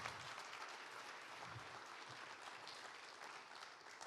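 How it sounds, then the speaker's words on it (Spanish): Applause rises from a church congregation during a sermon, a soft, distant, continuous patter of many hands that holds at an even level throughout. "Déselo fuerte el aplauso al Rey."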